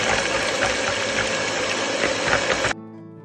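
Eggs whipped with a quarter teaspoon of vanilla essence for a chocolate peanut cake batter, a steady loud motorized hum of an electric beater running continuously, then cutting off abruptly near the end.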